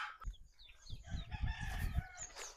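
Chicks and chickens cluck and call in a cluster of short, overlapping bursts, with a rooster-like crow rising near the end, fairly close.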